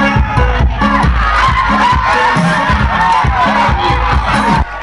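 A large audience at a children's talent show cheers and shouts continuously, loud and dense, with whoops and a rhythmic pounding beat underneath throughout.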